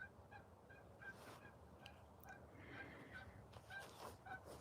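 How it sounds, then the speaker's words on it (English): Geese and other fowl call repeatedly at a distance over steady outdoor ambience, with short honks and gobble-like cries coming in scattered bursts across the whole stretch. "The goose been noisy"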